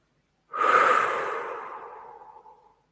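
A single long, soft exhale during a quiet meditation, close and breathy, rising quickly and then trailing away over about two seconds into silence.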